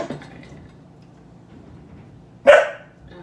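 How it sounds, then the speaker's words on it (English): Dogs in a home kitchen give one sharp, loud bark burst late in the clip after a faint, brief start, with quiet room tone in between. "They like to bark at the cats on the ceiling"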